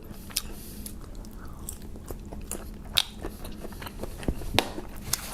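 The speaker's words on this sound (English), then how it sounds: "Let me try out one of these shrimps real quick." Shrimp from a jambalaya bitten and chewed close to the mic, with soft wet crunches and a few sharper bites standing out in a steady run of mastication, no talking.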